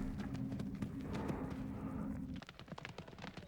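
Horse hooves clip-clop on a show-jumping course, a steady run of soft, fairly quick hoofbeats at mid distance that shifts in character partway through, with no talking.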